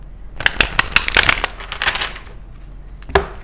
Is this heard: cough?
no